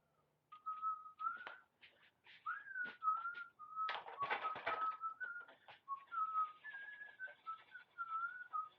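A person whistles a wavering melody close by, phrase after phrase, with a brief rustling burst partway through.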